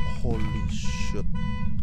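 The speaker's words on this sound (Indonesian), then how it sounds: "Mobil. Klakson mobil." A sustained electronic car-horn tone in the game Phasmophobia blares continuously for nearly two seconds, loud and steady, with brief voice sounds breaking through in the middle.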